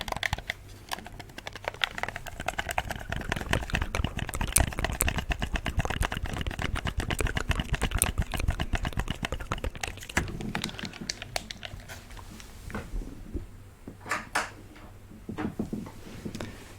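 Game controller shoulder buttons pressed over and over in quick, crisp clicks, a dense run of sharp taps close up that thins out toward the end.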